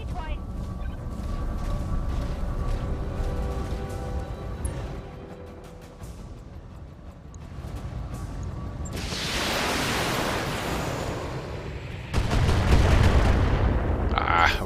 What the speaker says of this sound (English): Alright, indirect fire.